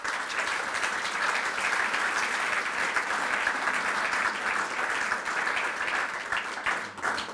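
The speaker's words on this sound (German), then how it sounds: "herzlichen Applaus." Warm audience applause at an academic lecture event, a dense, sustained wall of clapping from a large hall audience that stays loud and even throughout, with no talking over it.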